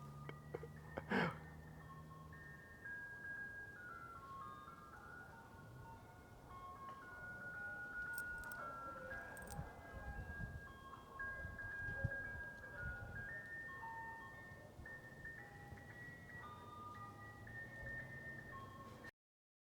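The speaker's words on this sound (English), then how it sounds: "I have sampled that ice cream truck before" Faint ice cream truck jingle, a thin repeating melody playing quietly through the whole stretch, with a few soft knocks and rustles in a quiet room.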